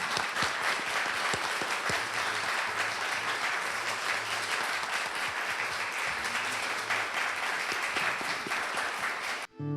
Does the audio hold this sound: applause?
yes